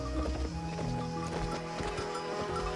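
Hoofbeats of a horse clip-clopping in a horse riding video game at a brisk pace, a steady rhythmic clatter heard close and continuous alongside in-game background music.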